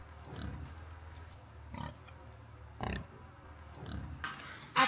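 Pigs on a farm at feeding time, a few scattered grunts and oinks at moderate distance, with farmyard background noise between them.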